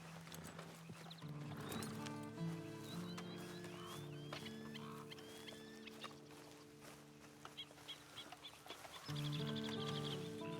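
Hooves clip-clop steadily as a horse is ridden in Red Dead Online, with a whinny and birds chirping and clucking around, fairly quiet with a swelling soundtrack drone beneath.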